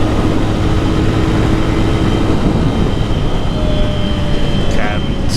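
Amazon X-Pro motorcycle engine held at full throttle in fifth gear, a loud steady roar mixed with wind rush, continuous and close throughout, with a rider's voice over it.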